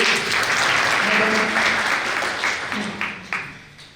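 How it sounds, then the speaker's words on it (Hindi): Loud, sustained applause from an audience at a senior citizens' Republic Day celebration in Delhi, a thick wash of clapping that thins toward the end into a few sharper separate claps. "जोरदार तालियां के लिए"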